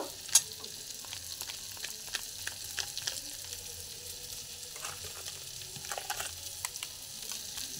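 Ground chilli, coriander and cumin frying in a pan, a faint low sizzle broken by sparse clicks and scrapes from occasional stirring.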